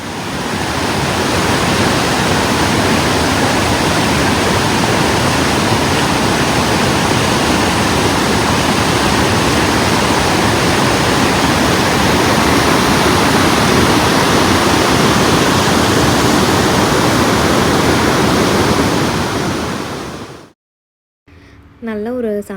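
River water flowing at a picnic spot near a park and railway track at sunset, a steady, loud rushing wash that continues unbroken for about twenty seconds before briefly dropping out near the end.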